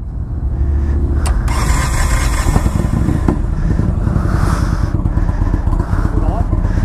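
A 2019 Indian Chieftain motorcycle engine idles with a steady, loud low rumble throughout, with a few brief clicks and faint voices behind it.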